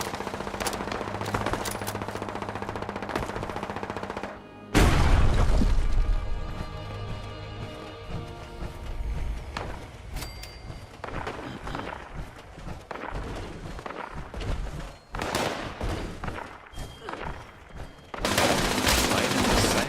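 Gunfire rattles through a fight in the Fallout 76 video game, with bursts of rapid automatic fire and scattered single shots. The battle noise is dense and continuous, with loud sharp blasts near the middle and the end.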